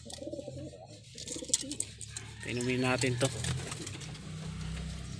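Racing pigeons coo in low, soft bursts, with someone talking over them and a brief engine-like rumble in the background.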